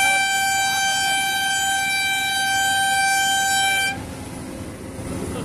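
A non-AC WBTC government bus on the Bakkhali to Kolkata route blasts a loud, sustained multi-tone horn for about four seconds, then cuts off, leaving the engine and road rumble of the speeding bus.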